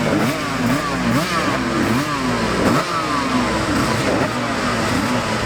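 Yamaha two-stroke racing motorcycles at the Classic TT road races blare past continuously, their high, rising engine notes revving and changing gear, loud and close with no talk.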